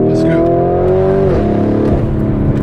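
A tuned Lamborghini Urus launches hard from close by, its engine note loud and climbing, then shifting and revving on as it accelerates. Speech runs underneath.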